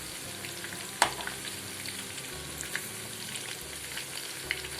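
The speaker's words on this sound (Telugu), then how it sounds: "మనకి చికెన్ ముక్క అనేది మంచిగా ఫ్రై అవుతుంది" Chicken 65 pieces fry in hot oil with a soft, continuous sizzle and crackle, broken by one sharp clink about a second in and a few lighter taps later.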